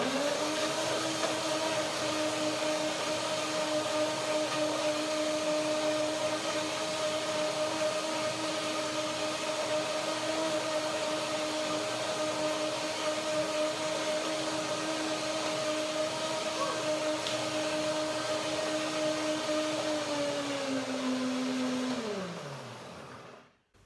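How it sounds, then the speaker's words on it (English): Blender whirring steadily as it blends chia and flax seeds with grape and mango, a loud continuous motor drone holding one pitch for about twenty seconds before spinning down and stopping near the end. "I need to blend it again, but it's okay. I want to break up the seeds now."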